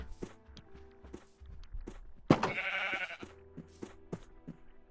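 A single Minecraft sheep bleat rises midway through, clear and close, among soft footsteps before and after it.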